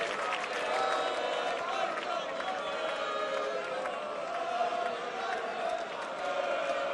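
A darts crowd at the 2017 European Championship semi-final applauding Van Gerwen's 121 checkout, a steady roar of clapping and cheering in a large hall that holds level throughout.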